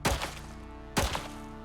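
Two heavy thumping shots from the tier 4 advanced pistol in the survival game Icarus, about a second apart, each a loud punchy report with a short decaying tail, no talk.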